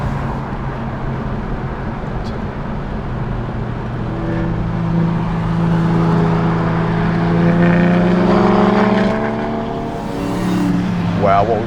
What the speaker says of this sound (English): Let's let this M2 go past, shall we?